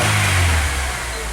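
Acura TSX engine revving, loud and close, a deep sustained roar that swells and then eases back toward idle in one short burst.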